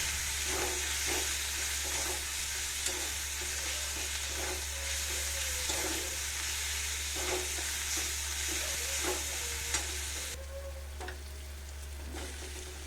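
Steady sizzling of onions and pointed gourd frying in a pan, with occasional soft stirring scrapes, continuous and fairly close with no voices.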